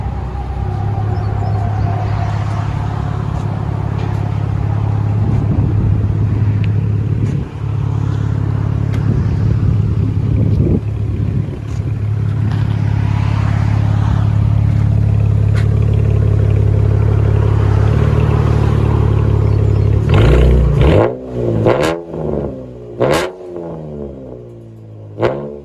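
A 2014 Chevy Camaro RS V6 with a straight-pipe dual exhaust, with a new Y pipe in place of the muffler and 5-inch tips, idles with a loud steady rumble and then blips the throttle in several sharp revs near the end.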